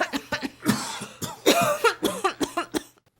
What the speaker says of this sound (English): Both wake coughing and gasping for air.